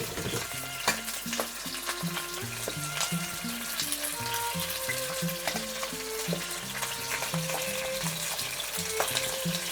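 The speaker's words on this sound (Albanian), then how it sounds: "Kam marrë një pul, e kam larë mirë, i kam tharë ujtin, e thaj ujtin dhe e filloj të skuq pak." Pieces of washed, dried chicken lightly frying in a pan for a chicken-in-sauce dish, giving a steady close sizzle with soft crackles and occasional stirring clatter throughout, with no talking.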